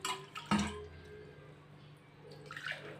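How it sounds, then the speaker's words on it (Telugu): Water is poured over washed rice in a cooking pot, quiet splashing and trickling with a brief louder splash early on and another burst of pouring near the end. "ఇప్పుడు ఇందులో మనమైతే వాటర్ పోసేద్దాం."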